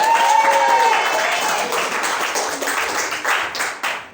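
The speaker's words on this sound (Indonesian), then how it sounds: "Berikan aplaus untuk Pinang Kering" An audience claps for the Pinang Kering team at a game-show-style competition, steady applause that starts over a brief tone and fades toward the end, with little talk.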